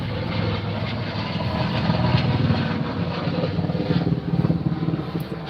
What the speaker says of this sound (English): Apache helicopters.